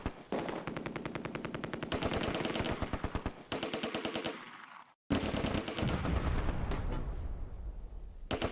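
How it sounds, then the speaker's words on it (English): Sustained machine-gun bursts from an M4A1 Sherman tank laying suppressing fire in the Close Combat wargame set during Operation Market Garden; rapid, loud rattling volleys broken by brief pauses, a sharp break, then further heavy firing and rumble. "fire from the M4A1 Sherman"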